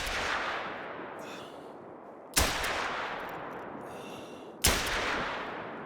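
Two sharp, loud .243 handgun shots fired while zeroing a scope in a hunting game, each a sudden crack followed by a long rolling echo that fades across open terrain, with a rumbling report continuing at the start.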